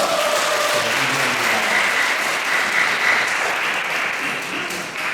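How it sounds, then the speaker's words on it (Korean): A congregation applauds steadily and loudly for several seconds after a praise song at an end-of-semester college worship service, the dense clapping holding even before tapering slightly at the end. "정말 박수 부탁드립니다"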